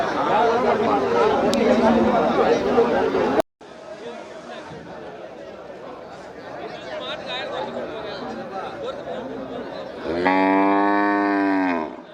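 Cattle low at a Melapalayam livestock market in Tamil Nadu, with one long, loud, harmonic moo near the end, rising over a steady bed of crowd chatter and people talking nearby.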